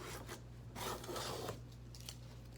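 Handplane blade swiped a couple of times during sharpening, giving soft, close raspy strokes over a low steady hum, the middle swipe longest and loudest.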